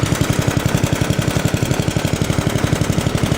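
An S-17 engine with a single pulley running at its slow setting, a loud, close, rapid, even chugging beat with sharp regular pulses throughout.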